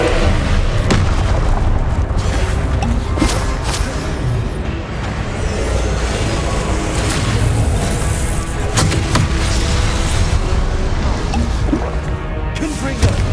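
Repeated fiery spell blasts in Hogwarts Legacy combat, booming explosions bursting over a dense, continuous wash of battle noise, with a voice casting spells amid the clamour.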